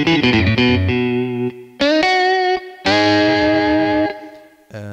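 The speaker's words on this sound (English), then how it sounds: "The Bluesy Night is with a little distortion." Distorted guitar voice on a Yamaha PSR-S950 arranger keyboard, played as crunchy chords and double notes in short phrases with sustained tails and brief gaps, loud and alone.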